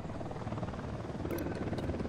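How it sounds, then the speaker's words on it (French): An enemy unit helicopter approaches in the video game Ghost Recon Wildlands, its steady rotor drone filling the scene without a break, with a few brief higher game sounds over it. "Hélico de l'unidad en approche."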